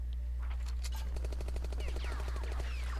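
Rapid machine gun fire in a video game, a fast even stream of shots over a steady low hum, fairly soft and distant with chirpy effects rising near the end.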